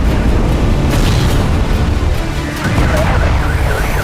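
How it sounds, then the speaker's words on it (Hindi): Continuous heavy booming and rumbling from explosions after airstrikes on residential buildings in Lebanon, loud and dense throughout with no clear gaps between blasts. "प्रचंड आसमानी प्रहार के बाद आया बारूदी भूचाल"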